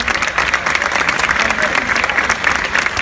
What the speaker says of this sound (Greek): θέλω να με χειροκροτήσετε με όλη σας την αγάπη και την καρδιά, αυτούς τους εκπληκτικούς μουσικούς